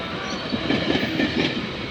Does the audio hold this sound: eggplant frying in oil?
no